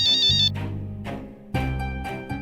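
A phone ringtone plays in a tonal, musical pattern, repeating in loud bursts with short gaps between them, close by and with no voices over it.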